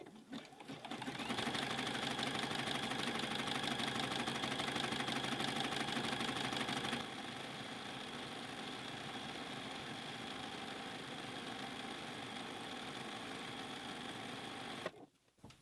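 Sewing machine running steadily, zigzag stitching elastic onto the edge of fabric for a reusable bowl cover, a loud continuous mechanical whir that drops a little in pace midway and then stops abruptly near the end.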